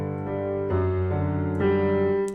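Piano plays the closing measure of a verse from a song, a few sustained chords changing roughly every second, moderately loud and alone with no voices.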